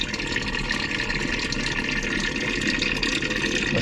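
A water pump siphons water from a pit dug into solid rock, giving a steady, close rushing and gurgling wash of water with no breaks and no voices.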